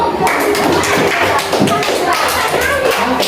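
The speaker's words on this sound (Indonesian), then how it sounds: "kasih tepuk tangan untuk kelompok 2." Young pupils in a primary school classroom clap for a group, a loud continuous wash of many hands mixed with children's voices chattering underneath.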